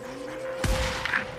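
Gunfire in the video game Days Gone: a single sharp shot with a broad burst and a short rumbling tail, heard over a steady tonal game background hum, with a fainter follow-up crack after it.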